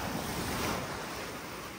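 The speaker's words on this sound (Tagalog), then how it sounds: "O yan ang dagat nyo o." Sea waves wash over a pebble beach at Sarande, Albania, a steady broadband roar mixed with wind buffeting the microphone, continuous and close, with no voices.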